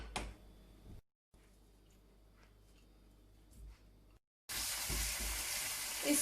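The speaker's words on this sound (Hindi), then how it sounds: "तो इधर हम चिकन को फ्राई करेंगे।" Chicken frying in a pan on a stovetop, a soft crackling sizzle that stops, resumes quietly, then returns as a loud, bright hiss with occasional stirring knocks.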